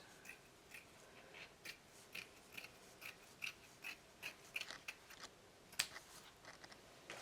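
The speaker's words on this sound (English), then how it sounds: "I'm going to cut part of this." Scissors cut material for a handmade journal cover in a long series of quiet, rhythmic snips, close and even-paced, with no talking.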